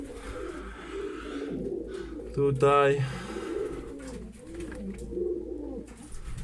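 A pigeon coos in a short throaty burst near the middle, while someone speaks nearby before and after it in an indoor pigeon loft.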